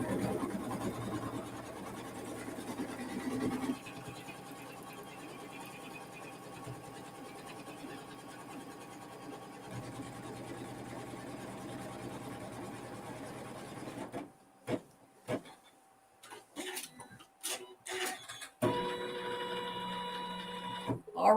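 An embroidery machine tacks down quilt corners with water-soluble thread, giving a steady mechanical whir for most of the stretch, then short separate bursts and a louder run at the end.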